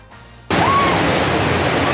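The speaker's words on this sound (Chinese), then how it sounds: "老街几乎呢都被大水给覆盖，只要车子经过，水就冲进了店家" Floodwater rushing down a flooded old street in Tamsui, New Taipei, during heavy rain, a loud broad roaring wash that starts abruptly and holds steady to the end.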